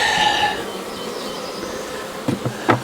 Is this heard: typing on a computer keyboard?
no